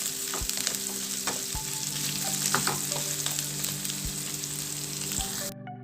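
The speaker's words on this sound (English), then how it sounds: "I'm going to add the white part and leave the greens for garnish. Just fry it for a while." The white parts of green onion fry in a pan with a continuous loud sizzle, and occasional spatula clicks and scrapes sound close up with no speech.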